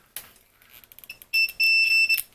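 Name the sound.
multimeter continuity test beep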